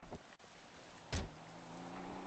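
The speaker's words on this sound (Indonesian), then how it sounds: "Suara mobil siapa itu?" A car in a GTA roleplay offroad session gives a short engine rise with a brief thump, then a steady low hum that carries on to the end, moderately loud with no talk.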